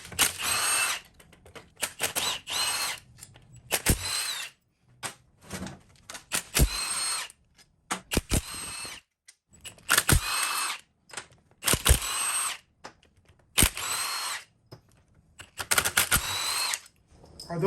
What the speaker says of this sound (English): we're gonna undo the main bolts that hold the cases to the center plate. They're 14 millimeter, and a half drive wobble socket is really awesome to use